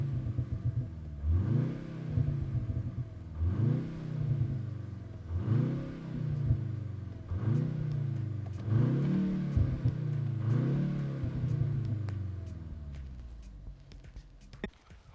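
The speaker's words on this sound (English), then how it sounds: "The car's in Sport Plus. We're revving it." A BMW M235 in Sport Plus mode, heard from inside the cabin, revs repeatedly in a steady rhythm of about six rising and falling bursts, each ending with crackling exhaust pops, with faint voices underneath.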